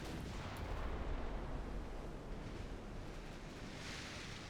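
A torpedo strikes a ship in the Ultimate Admiral naval war game, a low, muffled explosive rumble with a rolling wash of sea noise, faint and distant-sounding throughout.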